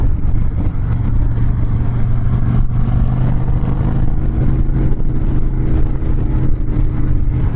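Harley-Davidson Dyna Wide Glide with a 103 engine rumbles steadily while riding, a loud, continuous low engine drone with wind noise and no break in the sound.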